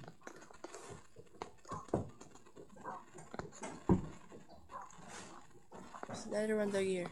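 A dog in the Minecraft video game, soft barks and a brief whining cry near the end, mixed with game clicks and footsteps while a person talks throughout.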